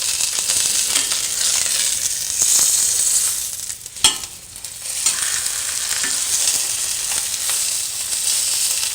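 Leg of lamb browning in a dry pan with no oil, giving a steady close sizzle and crackle throughout, with a brief clatter midway.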